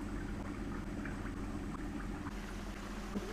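A batch of pastries, about two dozen at once, fries in hot oil with a constant close bubbling sizzle that holds steady throughout, with no talking.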